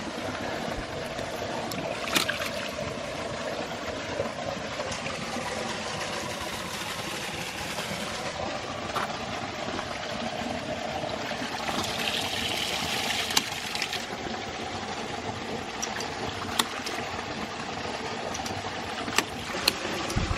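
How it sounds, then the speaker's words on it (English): A 1-inch ram pump runs steadily while pumping water, giving a continuous close wash of flowing water with occasional faint clicks and knocks. "And the 1-inch ram pump is going strong."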